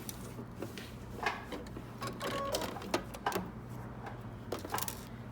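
A sewing machine backstitches shorts fabric from a Simplicity 8558 pattern, running in short, close bursts of rapid mechanical whirring and clatter, stopping and starting, with no talking.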